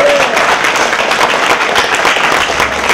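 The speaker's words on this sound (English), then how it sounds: "let's have one more round of applause for Congressman BobFilner" Sustained audience applause at a public event honoring a congressman, dense steady clapping from a crowd filling the whole stretch at even loudness with no voices.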